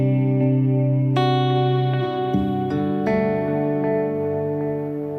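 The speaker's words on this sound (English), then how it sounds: "So not only is the reverb occupying space in the sonic spectrum, you're also having some movement with the modulation." An electric guitar played through a Line 6 Helix reverb with modulation, sustained chords ringing with a shimmering, wavering tail as new strums enter, lush and close with no talking.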